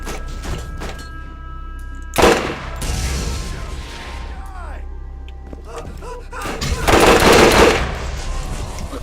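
An incendiary Thumper gun fires in Borderlands, with heavy booming blasts: one sharp thump early, then a longer roaring burst later, against loud game background noise.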